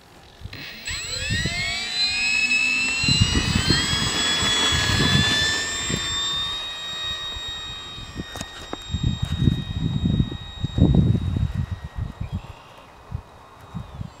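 Durafly F4U Corsair RC model warbird in flight, its motor whining loudly with rising and falling pitch as it passes, then fading into gusty wind and low rumble in the second half.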